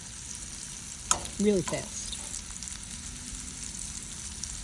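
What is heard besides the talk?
jumbo shrimp sizzling in hot oil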